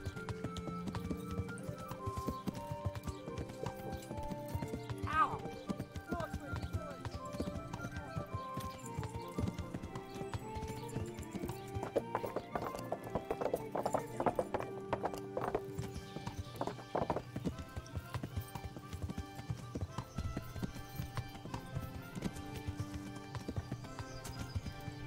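Horse hooves clip-clopping at a steady riding pace in the medieval game Kingdom Come: Deliverance, rhythmic and fairly faint, with a brief whinny and soft background music throughout.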